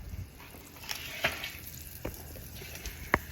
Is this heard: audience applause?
no